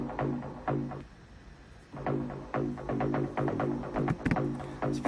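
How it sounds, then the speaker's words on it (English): Acid synth patch in Ableton Live playing a sampled loop rhythm, with squelchy, resonant notes stabbing in a syncopated pattern, loud and close, with a short pause before the phrase restarts. "now we've got that rhythm with an acid sound instead"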